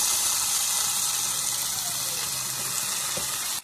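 Brinjal pieces soaked in water are tipped into a pan for a brinjal fry, producing a loud, steady rushing hiss of water and sizzle that holds evenly throughout.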